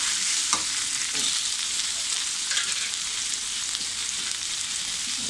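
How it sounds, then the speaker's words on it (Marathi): Finely chopped tomato sautés in a pan for a cauliflower, potato and pea bhaji, a steady close sizzling hiss with a few soft scrapes of stirring and no voices. "आपल्याला टॅमॅटो अगदी आतमध्ये एकजीव होईपर्यंत परतून घ्यायचा आहे"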